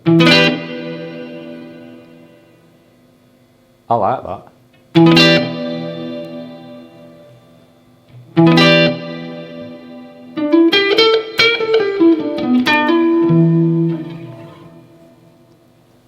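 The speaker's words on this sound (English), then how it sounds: "you can hear the Secret Path with a really nice hall-like reverb" Electric guitar through a Black Country Customs Secret Path reverb pedal, phrases ringing out with a lush, hall-like reverb tail, notes sustaining and decaying between picked passages, with a brief spoken remark in the middle.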